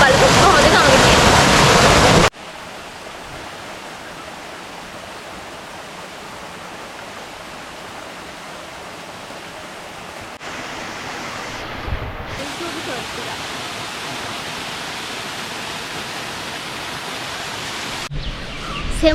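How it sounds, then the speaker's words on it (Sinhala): Yatawara waterfall gives a steady, broad rush of flowing water that continues unbroken for most of the stretch, after a brief louder burst of noise at the start. "මේ පිටිපස්සේ තියෙන දියැල්ලෙන් කොටසක් ඉතුරු කෑල්ල පල්ලෙහා තියෙනවා"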